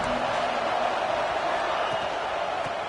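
A large football stadium crowd roars in a steady, dense wash of cheering noise that holds at a constant level throughout, with no distinct peaks.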